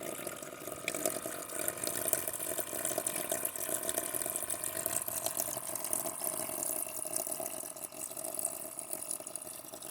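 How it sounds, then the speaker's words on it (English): Water running steadily from a newly installed camper sink tap, a constant hissing splash that stays even and fairly close with no speech over it. "I got running water, guys."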